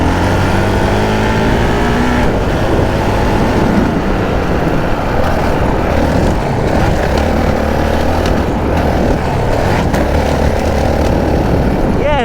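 A Honda CRF450RL motorcycle's engine revs and surges over dirt jumps, loud and close, with rising and falling pitch and heavy wind rush throughout.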